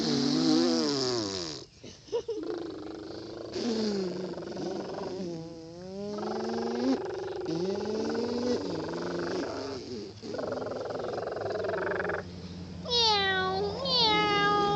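A cat meows several times in drawn-out, wavering cries that rise and fall in pitch. The cries are loud and close, with short pauses between them and a higher, sharper call near the end.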